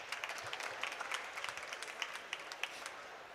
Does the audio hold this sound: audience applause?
yes